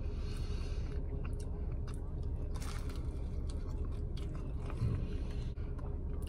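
Close-up chewing of crunchy pizza crust from Biggie's Pizza, with steady crunching and grinding bites over a dense, noisy background throughout.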